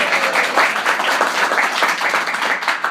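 A live vaudeville radio show audience bursts into sustained, dense applause, a steady crowd of clapping hands with no pauses.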